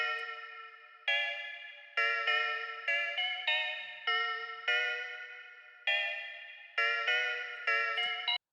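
A submitted music beat built from a harsh MIDI kit sound: bright, buzzy synth chord stabs that hit and decay in an uneven rhythmic pattern, clean and alone with no voices.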